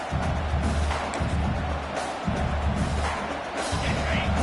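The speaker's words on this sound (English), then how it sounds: "Listen to the crowd energy here in the early going." Stadium crowd in the NCAA 26 college football video game, a steady dense roar of many voices with swelling cheers, loud and continuous throughout.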